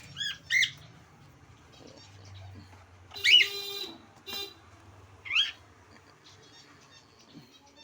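Cockatiels give a few short, sharp squawks at morning feeding time, spaced apart over a quiet background with faint low rumble and small rustles.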